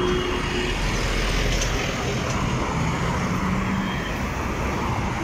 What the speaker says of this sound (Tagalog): Dami naman sasakyan